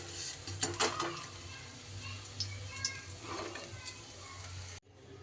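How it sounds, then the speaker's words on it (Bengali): Young jackfruit fritters frying in a wok of hot oil, a steady close sizzle with a few utensil clinks and scrapes near the start, cutting off abruptly just before the end. "এদিকে সেকেন্ড ব্যাচেরগুলো কিন্তু আমার বেশ সুন্দর করে ভাজা হয়ে গেছে"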